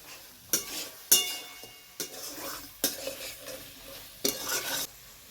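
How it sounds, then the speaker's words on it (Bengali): Spice paste of ground onion and garlic frying in a pan, with repeated sharp stirring scrapes at irregular intervals over a low sizzle, close and fairly loud. "এখন এই সমস্ত মশলাগুলোকে আরো ভালোভাবে আমি কষিয়ে নেব"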